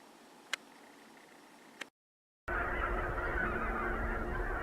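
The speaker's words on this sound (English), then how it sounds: "there was no shortage of geese in the area" Geese honk continuously in open country during a hunting trip, a steady, fairly loud flock chorus that fills the scene after a short silence, with a couple of sharp ticks beforehand.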